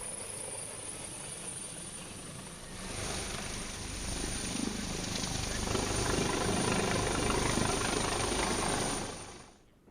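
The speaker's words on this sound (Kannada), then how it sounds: "ಸುರಕ್ಷಿತವಾಗಿ ಕ್ಯಾಪ್ಟರ್ ಲ್ಯಾಂಡಿಂಗ್ ಆಗಿರುವುದನ್ನು ಕೂಡ ನೀವು ಗಮನಿಸಬಹುದು." A helicopter lands at a political campaign event in Gadag, its rotor and engine roar growing louder midway and staying steady before fading out, with faint voices in the background.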